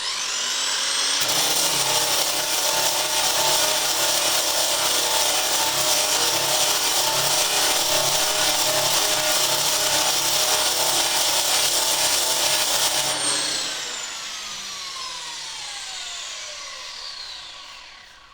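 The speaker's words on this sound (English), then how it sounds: "So here's my shrinking disc on my 9-inch grinder." A 9-inch angle grinder with a shrinking disc whirs at high speed with a loud, steady, harsh whine against a steel body panel, then winds down slowly as it spins to a stop.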